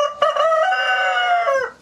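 A farm rooster crows once, close and clear, a single sustained call rising briefly and then trailing off.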